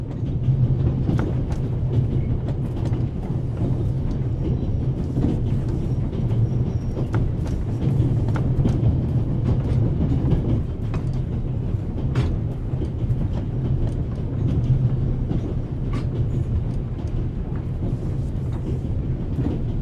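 Steady rumble of a moving train in the video game The Raven Remastered, a continuous low drone with faint rhythmic clatter running throughout, no talking.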